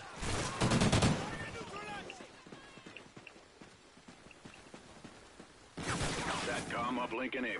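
Call of Duty Ghosts gunfire with a Remington rifle, loud bursts of shots near the start and again at the end, thinner scattered game noise between, under a player's talk.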